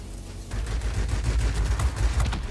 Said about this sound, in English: I think he's shooting at an ally.